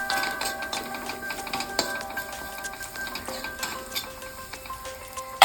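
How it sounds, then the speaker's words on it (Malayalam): Onions frying in a pan for a dried prawn curry, a light sizzle with a utensil stirring and tapping against the pan, close and steady with no talk. "സവാള നിറം മാറണപ്പുനു ശരിക്കും ഇളക്കിയങ്ങട് മറിയിട്ടങ്ങട്."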